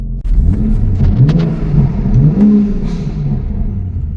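A car engine revs with its exhaust valves stuck shut, rising and falling in loud, close bursts with a muffled, throaty tone and no voices over it.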